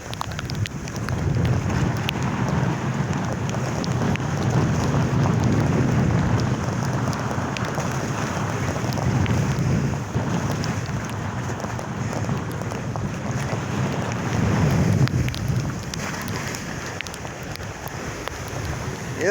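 Big waves and strong wind of Typhoon Karena surging and crashing beside a boat, a loud continuous roar and rush of water and wind with swells building and falling throughout.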